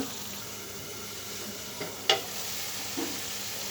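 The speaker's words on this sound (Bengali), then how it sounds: "মশলাগুলো সুন্দর করে নেড়ে চেড়ে একটু কষিয়ে নিব" Spices with chili powder fry in oil, giving a constant low sizzle, while a couple of brief utensil clinks and scrapes mark the stirring; no voices.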